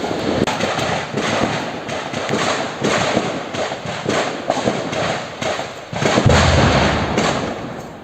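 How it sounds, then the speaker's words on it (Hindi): Gunfire crackles during an armed encounter in Srinagar's Malura area, a rapid irregular series of sharp reports and thuds, some in quick bursts, loud and echoing throughout. "उस वक्त की तस्वीरें हैं जब गोलियों की आवाजें सुनी जा रही थी"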